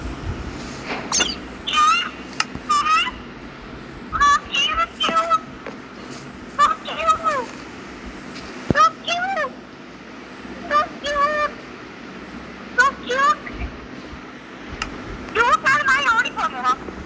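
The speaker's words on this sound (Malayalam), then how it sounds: "മറ്റേ കോഴിയല്ലേ?" A chicken calls nearby in repeated loud, nasal squawking bursts separated by short pauses, over a low background hum.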